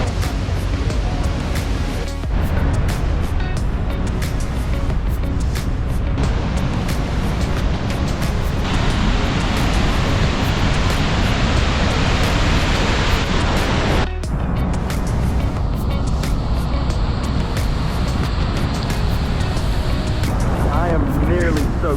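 Victoria Falls in Zimbabwe, running high, sends up a loud, continuous roar of water with broadband rushing noise and gusty spray, close and overwhelming throughout.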